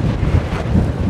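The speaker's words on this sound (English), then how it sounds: "Just a tad windy now," Strong wind buffets the microphone in a continuous low roar on a sunset walk near Femés, Lanzarote, loud and close, with no talking.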